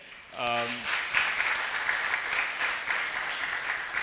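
An audience at a law school human rights moot competition breaks into sustained applause, a dense wash of clapping that swells quickly and holds steady for several seconds after a short voiced tone at the start.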